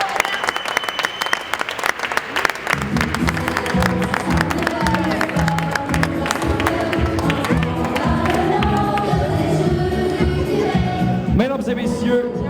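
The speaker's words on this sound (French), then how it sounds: "Encore une fois, une bonne main d'applaudissements à tous." A crowd at the Jeux du Québec Olympic boxing finals in Alma applauds steadily and loudly, with dense clapping that keeps going for a long stretch while background music plays underneath.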